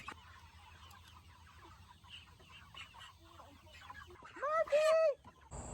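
Chickens cluck and squawk softly as poultry are caught up at night for processing, with one louder, rising squawk near the end over a low background hum and a faint voice.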